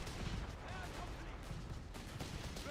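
Rattling infantry gunfire and distant artillery thuds from a Company of Heroes 3 battle, a dense continuous barrage of cracks and booms, fairly faint, with voices talking over it.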